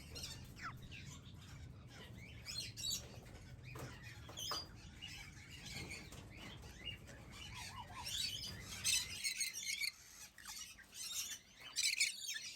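Crimson-bellied conures in an exotic bird collection give busy, overlapping chirps and squawky calls close by, with a steady low rumble beneath that cuts out near the end, leaving the sharp calls alone.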